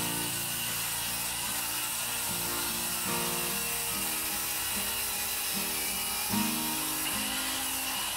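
A circular saw cuts plywood for a cherry headboard, its loud, constant motor whine shifting slightly in pitch while it runs through the whole stretch with no voices.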